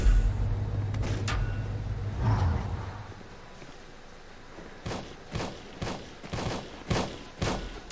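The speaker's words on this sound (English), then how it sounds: "We literally just surfaced, and we're already getting shot at." In the video game Volcanoids, enemies fire on the player: a rapid series of sharp shots and thuds at regular intervals, with a low rumbling hum underneath at first. No one speaks.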